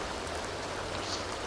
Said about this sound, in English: I wish it would stop raining.